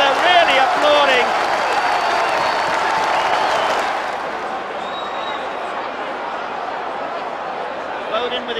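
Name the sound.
football fans applauding a goal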